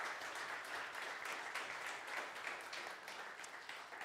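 Applause from the crowd at an AWS user group meetup, a continuous, fairly quiet wash of many hands clapping at a moderate distance, steady throughout.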